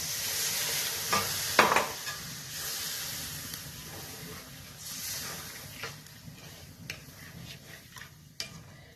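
Egg curry with mustard-poppy seed paste sizzling and hissing in a pan while a spoon stirs and scrapes it, a few sharper clinks of utensil on metal standing out over the steady frying.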